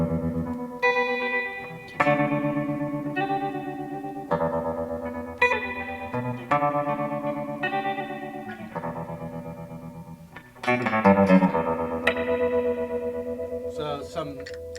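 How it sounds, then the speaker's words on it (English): Electric guitar run through a standard Boss tremolo pedal, sustained chords pulsing in a steady rhythmic throb, loud and close, with a brief brighter strum near the end and no talking. "this is just a standard Boss tremolo"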